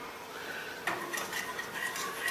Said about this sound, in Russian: И начинаем перемешивать.